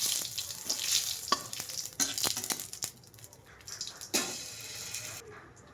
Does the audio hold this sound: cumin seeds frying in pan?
yes